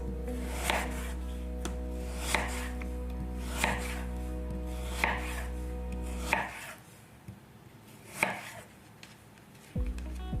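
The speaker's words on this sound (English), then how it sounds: "So I'm just gonna cut it like a very thin slice." A knife slicing food into thin pieces on a board, evenly spaced crisp cuts about every second and a half, close and quiet over a steady low hum that drops out partway.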